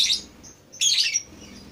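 A songbird gives two bright, high chirping bursts with a short pause between them, close and clear against a quiet background.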